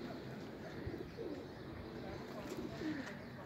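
Pigeons coo softly in a loft, their low murmuring calls faint and repeated beneath a steady background hum.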